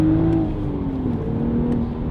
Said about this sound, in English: So all you're hearing out back is exhaust.